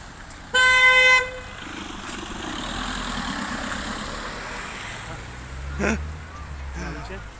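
A single loud car horn blast sounds briefly near the start, then an engine idles and rumbles steadily with a short thump later on.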